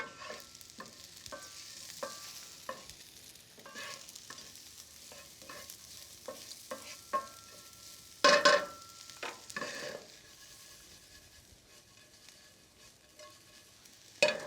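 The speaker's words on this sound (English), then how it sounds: "Let's give this a stir." Jalapeño popper stuffed mushroom filling stirred in a pan: a quiet run of repeated spoon scrapes and soft clacks over a faint sizzle, with a couple of louder knocks near the end.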